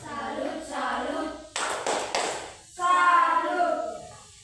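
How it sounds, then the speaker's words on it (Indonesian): Children in a classroom perform a clapping chant, their sung voices giving way to a short burst of several sharp, rhythmic claps before the chanting resumes. "Tepuk salut dulu untuk mereka 3 orang."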